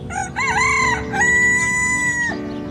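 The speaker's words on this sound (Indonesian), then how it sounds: "Seketika Petrus berkata demikian, berkokoklah ayam." A rooster crows once, loud and close, a long rising then sustained call ending abruptly, over a low steady background hum.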